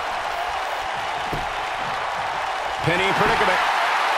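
Crowd noise from a wrestling video game holds as a steady broadband roar beneath excited commentary and swells louder toward the end.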